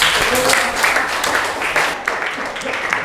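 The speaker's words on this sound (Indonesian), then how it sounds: "tepuk tangan untuk kita semua" A small group in a classroom claps steadily, the applause fairly close and continuous, with a few voices mixed in underneath.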